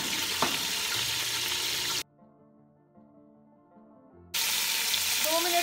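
Chicken frying in oil with ginger garlic paste for chicken yakhni pulao, a loud close sizzle broken by a stretch of soft music in the middle, then the sizzle returns.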